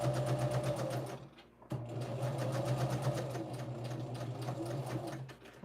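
A sewing machine stitching fabric seams runs with a fast, even mechanical chatter, close and steady, pausing briefly after about a second before resuming its rapid rhythm.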